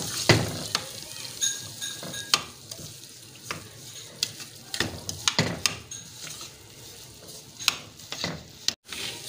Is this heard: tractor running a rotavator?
no